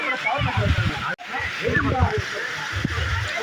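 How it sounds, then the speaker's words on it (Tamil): Water falls and splashes at Muttal waterfalls, a continuous rushing hiss with sloshing and spattering close by, while someone talks over it. "தண்ணி சவுண்டு பார்த்தீங்களா எப்படி உழுவுறது, நல்லா கேட்குதுங்க."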